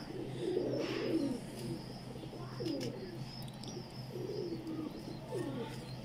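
Soft, low cooing from a black-pearl-eyed Salara Teddy pigeon repeats in several short rolling phrases, close by, over a faint steady background hum.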